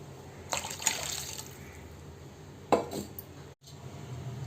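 Rice water is poured into a pot of tomato rasam in two short splashy pours, with a soft clink of a vessel against metal.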